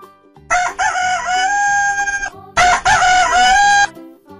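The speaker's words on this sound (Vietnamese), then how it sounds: "Con gà trống." Two loud, drawn-out crows from a rooster, heard close and clear, each a sustained rising call, with a short pause between them and no talking.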